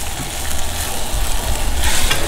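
Lots of onions sizzling and frying in a pan for a potato lyonnaise, a dense, close, steady crackle with occasional stirring scrapes and no talk.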